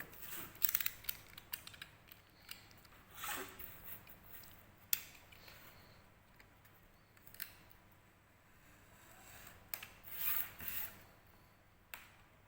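A sharp craft cutter slices through XPS foam along a drafted shampoo-bottle shape, giving faint, scattered scraping cuts and small clicks at irregular intervals in a quiet room.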